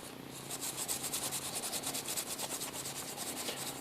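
A stainless steel wire brush scrubs old gasket material off a Briggs & Stratton Intek engine surface with light pressure. Soft, rhythmic scratching strokes repeat quickly and fairly quietly, close by.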